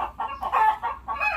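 Chickens clucking inside a box used for bus transport, a run of close, repeated clucks and short calls with brief pauses, no talk over them.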